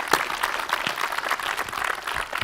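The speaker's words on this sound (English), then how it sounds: "So can we just have a round of applause for this?" A lecture audience claps after a talk on outer space, a dense, moderately loud patter of many hands that is sustained and fairly even throughout.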